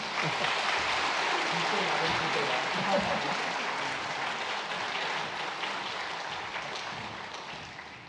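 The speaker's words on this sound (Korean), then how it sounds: "뜨거운 마음으로 박수하겠습니다" A church congregation at a Sunday worship service applauds warmly, giving a steady broad wash of clapping that fills the room and slowly tapers off toward the end, with a few murmurs mixed in.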